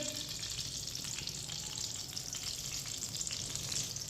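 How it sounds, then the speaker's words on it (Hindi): Semolina (suji) frying in hot oil for halwa, a continuous soft sizzle with faint scraping stirs throughout, fairly quiet and steady with no voices. "1 प्याली सूजी डालेंगे।"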